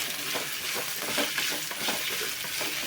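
Sliced okra hisses and sizzles steadily in hot oil in a pan, with a continuous loud frying roar and soft scraping of the stirring spoon throughout.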